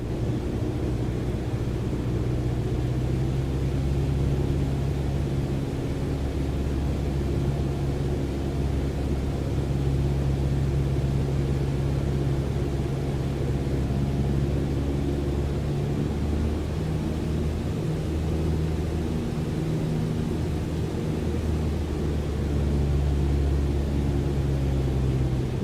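Steady, loud engine drone from inside a small airplane flying between South Pacific islands, a continuous low rumble throughout with no distinct flap sound standing out.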